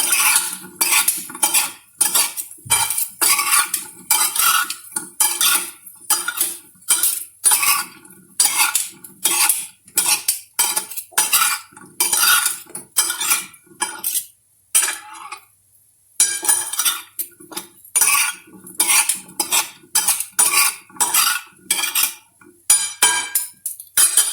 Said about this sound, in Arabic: غادي نخلطها دابا